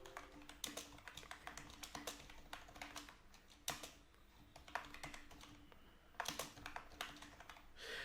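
Someone types on a computer keyboard while entering MicroPython code for a Raspberry Pi Pico on a Windows PC, with irregular bursts of quiet, close key clicks and short pauses, and no talking.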